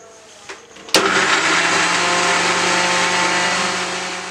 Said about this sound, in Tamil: இப்போ மிக்ஸி ஜாரில் நம்ம ஆட் பண்ணிட்டோம். இதை வந்து நம்ம அரைச்சிக்கலாம்